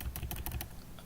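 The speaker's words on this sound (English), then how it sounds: "you type in the command line chmod" A quick run of soft keystrokes on a computer keyboard, about half a dozen close, quiet clicks in rapid succession, followed by a short quieter pause.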